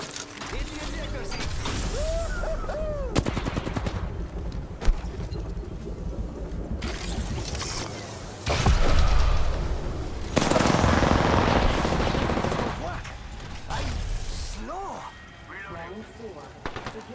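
Gunfire in a multiplayer video game, with bursts of automatic shots and mechanical clatter that swell loudly in the middle, mixed with other game effects.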